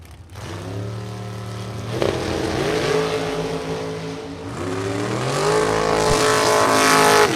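Camaro drag race car in a Pro Eliminator bracket round launching down the strip, engine roaring loud and close with rising revs and a second surge of acceleration, no talking.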